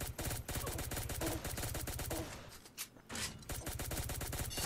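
Rapid machine gun fire from a basic weapon in the mobile shooter Pixel Gun 3D, a loud steady stream of shots with a brief lull near the end before the burst resumes.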